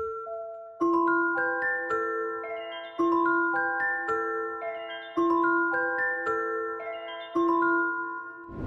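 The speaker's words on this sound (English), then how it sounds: "So I automated the mix knob in the portal" An ambient G minor synth melody processed through the Portal plugin with its mix knob automated, bell-like notes stacking in a steady repeating pattern with a slightly grainy, shifting sheen, clearly heard with no voices.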